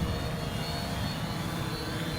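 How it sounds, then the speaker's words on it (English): Small fishing drone with spinning rotors descending under manual control, a steady, loud broadband whir and hum running throughout with no break. "So to land the drone manually, you take the left lever, bring it down."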